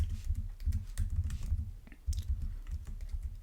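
Code is typed on a computer keyboard in a quick, steady run of soft, close key clicks with short pauses, heard alone.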